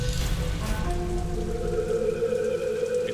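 Heavy rain falls at night in a steady, dense hiss, with a sustained tonal hum running beneath it.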